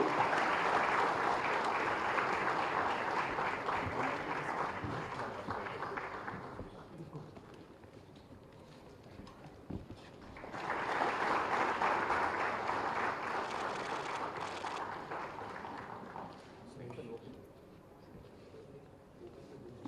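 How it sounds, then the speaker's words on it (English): Audience applause at a conference memento presentation in Hyderabad, two bursts of crowd clapping separated by a quieter lull with background murmur, the second swell rising again then tapering off. "Can we have a big round of applause once again?"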